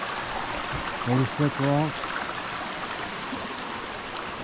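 Alum Hollow Creek rushes over slick rocks, a steady broadband wash of flowing water filling the whole clip, with someone speaking briefly over it.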